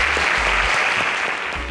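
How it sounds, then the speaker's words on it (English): An audience claps steadily at a Nigerian schools quiz show semi-final. The dense, continuous applause stays loud for the whole stretch. "A round of applause for our alumnus."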